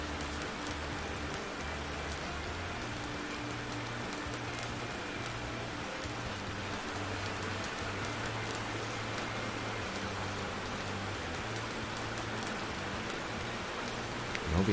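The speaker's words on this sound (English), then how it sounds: "Novian summer rain seems to last for ages." Summer rain in the video game Minotaur patters steadily on surfaces, a continuous hiss of drops under a low, looping musical hum with no speech.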